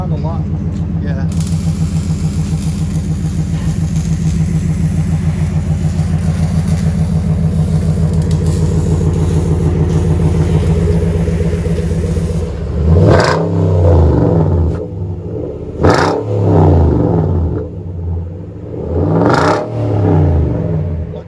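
Nissan Titan 5.6L V8 pickup with a Flowmaster Super 10 muffler and new exhaust tip, idling with a steady loud burble before three sharp throttle revs that rise and fall near the end, recorded close up.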